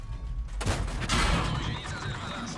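In a tank video game, a shell slams into the tank's compartment with a sharp impact and a rough, crackling burst that trails off in a noisy rumble.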